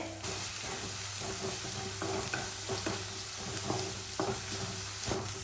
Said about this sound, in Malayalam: അപ്പം ഞാൻ കറിവേപ്പില ഉള്ളിയും കൂടി ഒരുമിച്ചിട്ടിട്ടുണ്ട്.